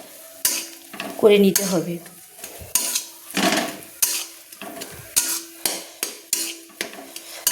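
Mashed potato (aloo bhorta) stirred in a kadai over a low flame: repeated scraping, clattering strokes of a spatula against the pan in an uneven rhythm, close and fairly loud, with a brief voice speaking near the start.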